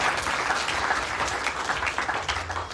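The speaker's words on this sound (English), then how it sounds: "Let's give us a round of applause, please." Audience applause at an outdoor Ramayan event in a New York park, a steady dense clapping crowd sustained throughout at fairly close range with no speech over it.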